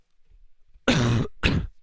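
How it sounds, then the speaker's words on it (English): A person coughs close into a microphone during a live game-development stream, two harsh bursts, the first longer, after near silence. "I just tried to cover my mouth so I didn't cough into the mic"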